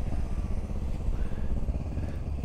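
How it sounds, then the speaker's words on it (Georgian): A white Vespa scooter rides past with a steady buzzing small-engine drone at moderate distance, continuous and unbroken, with no one talking. "თეთრი ვესპუნიათი დადის შვენიერი ქალბატონი"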